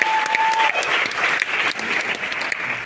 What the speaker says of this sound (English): Please give them a clap.